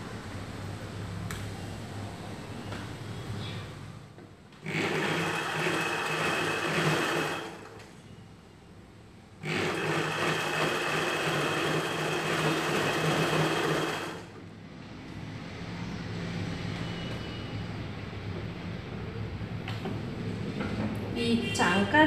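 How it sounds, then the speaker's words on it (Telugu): A sewing machine stitches a Punjabi salwar dress in two sustained runs of fast whirring, each several seconds long, separated by quieter pauses; someone talks in the background between and around the runs. "అక్కడ నుండి స్టిచ్ చేయడం స్టార్ట్ చేసుకోవాలి"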